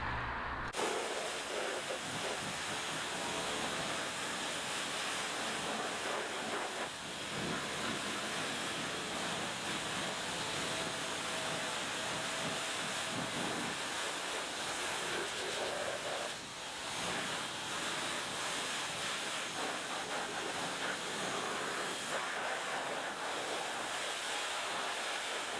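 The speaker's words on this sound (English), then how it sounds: "let's grab the pressure washer and give that a thorough rinse again, and get rid of this stuff." A pressure washer rinsing a Vauxhall Astra VXR: a steady, loud, broadband hiss of spraying water that runs unbroken for about twenty-five seconds with no talk.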